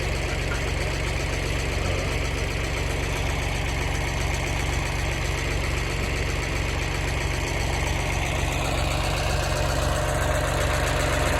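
A John Deere tractor engine idles close by, a steady loud diesel rumble with a fast even knock that holds constant the whole time, with no one talking.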